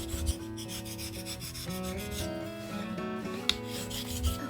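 A cracked wooden kneading bowl is shaved down for repair, giving a steady, close rasping scrape of a blade or file working across the wood in repeated strokes.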